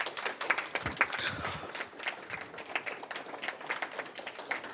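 An audience at an education event claps for the sponsors: a scattered, uneven patter of hand claps at moderate volume that continues steadily throughout.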